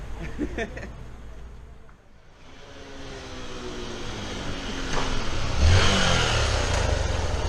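A motorcycle engine revs up close outdoors on an early morning in Bangalore, a steady idle rising into a louder climbing rev near the end, with voices in the background.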